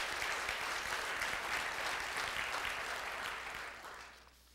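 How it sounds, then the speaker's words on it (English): A church congregation applauds a group of singers, a full steady round of many hands clapping that gradually fades out over the last second. "I wish you'd give them a round of applause one more time"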